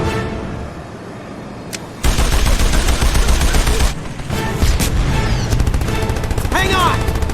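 Video game gunfire in Jak and Daxter: The Lost Frontier, a loud sustained volley of rapid shots with booming impacts and whooshing effects, nearly continuous after a quieter start.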